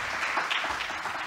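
An audience applauds at a school reunion's State of the School event, a short burst of steady clapping from many hands that fills the room.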